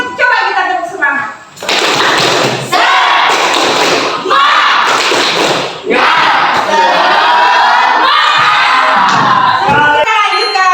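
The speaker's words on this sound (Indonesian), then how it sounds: "Kalau gitu coba kita tepuk semangat." Classroom of children performing a 'tepuk semangat' clapping chant, loud rhythmic shouted chanting with bursts of claps and brief pauses, close and energetic, like a crowd of young voices yelling in unison.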